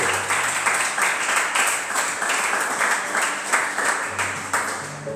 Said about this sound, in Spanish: Denle un fuerte aplauso al Señor si está entendiendo.